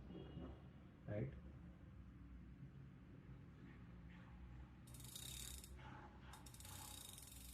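Screws being tightened on a Portronics MyBuddy K9 Pro laptop stand give off a faint ratcheting, mechanical rattle, with brief bursts of high clicking toward the end over a steady low background.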